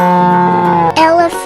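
A cartoon cow gives a loud, drawn-out moo, a rich sustained tone, which breaks into a short second bellow near the end.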